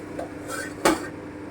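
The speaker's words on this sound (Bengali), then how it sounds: "এবারে আমি একটু ঢাকা দিচ্ছি" A lid is set onto a cooking pot on the stove with a single short metallic clank, heard close.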